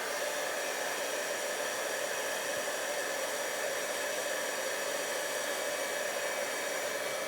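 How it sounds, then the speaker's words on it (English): A constant, even blowing hiss with a whirring fan tone from a craft heat tool, steady and moderately quiet throughout with no talking. "bring the old heat tool in here. This is really loud"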